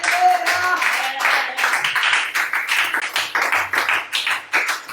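A church congregation claps in a quick, steady rhythm to acclaim the Lord. The sharp, loud beats are close and continuous, with some voices mixed in.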